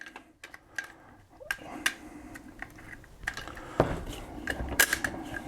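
A CMMG .22 Long Rifle conversion bolt dropped into an AR pistol's receiver in place of the bolt carrier group, giving several sharp metallic clicks and clacks close by, with a louder snap near the end.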